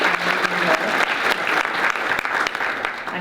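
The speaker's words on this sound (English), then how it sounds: "Can we just have a round of applause for all the students who presented during this conference?" Audience applause for students who presented at a symposium awards session, a steady, dense burst of clapping from a room full of people, close and continuous throughout with no talking.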